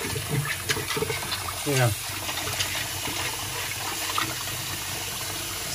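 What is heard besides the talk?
rinsing old computer plastic parts with water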